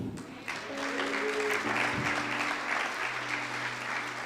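A church congregation claps together in a sustained, moderately distant wash of applause lasting the whole stretch, with faint sustained musical tones underneath.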